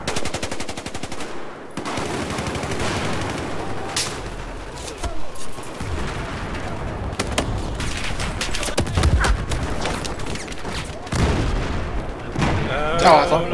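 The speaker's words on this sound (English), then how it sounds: "They're shooting at me!" Constant automatic gunfire and explosions from a Battlefield 4 match on the Golmud Railway map, dense bursts of rapid shots and booms filling the scene with almost no pause.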